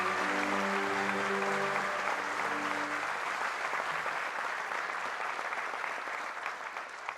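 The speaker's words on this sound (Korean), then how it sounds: "대통령님께 다시 한번 큰 박수를 부탁드리겠습니다." A large crowd at the 79th Korean Police Day ceremony applauds the president, a broad sustained roar of clapping heard from a distance, with faint background music tones early on, slowly thinning over seven seconds.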